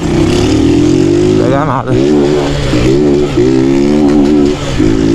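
A loud motorcycle engine revs hard and drones up close, its pitch rising and falling in repeated surges while someone speaks over it.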